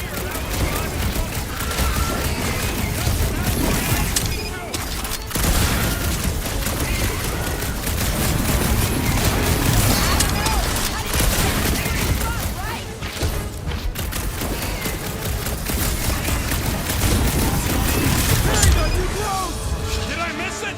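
Dense gunfire and explosive booms from a Guardians of the Galaxy action game fill the scene almost without a break, with loud rapid shots, crashes and mechanical clatter throughout, while voices talk over the combat.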